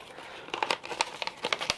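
Small empty paper envelopes handled up close, giving a string of soft crinkles and papery rustles in irregular bursts, with no voice.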